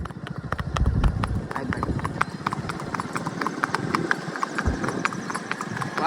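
Steady clip-clop of a mare's hooves on a hard surface while ridden, close and rhythmic at a walking pace.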